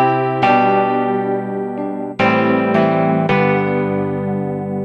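A watery, chorus-laden electric piano patch on a Boss GM-800 guitar synthesizer sounds several chords, each swelling with a gentle shimmering wobble as it rings out.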